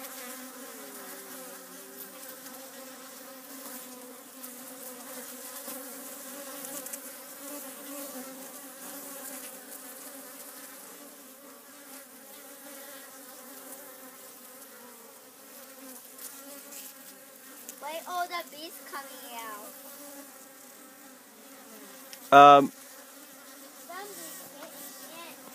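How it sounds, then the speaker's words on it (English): Leafcutter bees raid a beehive, a steady layered buzzing of several insects heard close by, with a brief louder buzz passing near the end. "leaf cutter bees are raiding the hive here"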